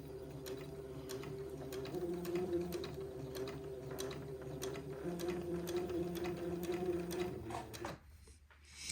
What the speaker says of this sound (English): now I'm going to sew slow so that I can maintain my seam allowance going around this curve